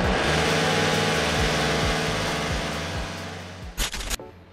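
A car engine revs loudly and steadily, close by, with its pitch repeatedly climbing and dropping back in a rough rhythm before a few sharp bursts near the end.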